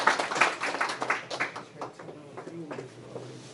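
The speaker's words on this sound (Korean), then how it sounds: "여러분 큰 박수로 환영하겠습니다" An audience at a workshop claps to welcome a new member, a burst of many hands that is strongest at first and then thins out as a voice talks over it.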